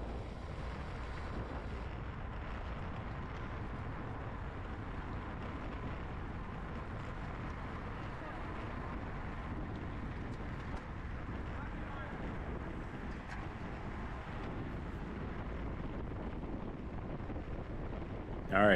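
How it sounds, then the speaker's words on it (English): Strong headwind buffets a microphone during a women's P123 bicycle race on a street lined with buildings, producing a loud, continuous rumbling roar that persists through the whole stretch. "it kind of funnels the wind like straight through there"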